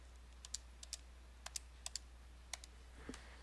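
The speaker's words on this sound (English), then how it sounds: "I'm going to type it in exactly as I see it." Sparse, light key clicks on a calculator as numbers are entered, about a dozen small taps spaced irregularly over a steady low hum, with no voices.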